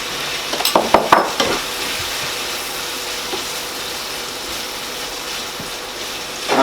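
Finely diced onions sautéing in a pan for spaghetti bolognese, starting with a burst of loud stirring and clatter, then settling into a steady close sizzle.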